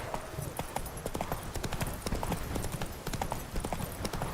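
A horse gallops in The Witcher 3 video game, its hoofbeats thudding in a fast, even clip-clop rhythm that carries steadily throughout at moderate loudness.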